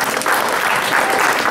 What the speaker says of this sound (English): A good round of applause for him.